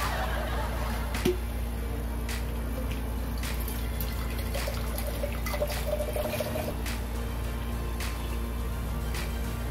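Water pours and trickles steadily under a constant hum while ramdon is cooked in a home kitchen, with faint clinks and a brief voice in the background.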